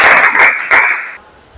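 Students clapping in a classroom, a short loud burst of applause in a few swelling waves that cuts off abruptly, leaving near silence.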